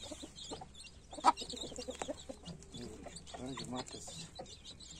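Turkey chicks, only a few days old, are taken outdoors for the first time and give a scattered series of small peeps and clucks. The chirps are close but modest in loudness over a low background.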